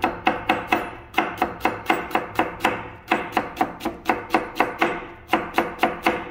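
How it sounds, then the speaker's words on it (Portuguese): A knife chops food on a board for fish seasoning, sharp regular strikes in quick rhythmic bursts with brief pauses between runs, close and fairly loud with no talking. "Vou picar mais também depois."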